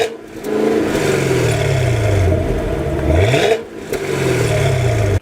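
A Cadillac CTS-V with a 640-horsepower V8 shared with the Corvette and Camaro ZL1 accelerates hard, its revs climbing loudly through repeated rising sweeps broken by brief gear-shift dips.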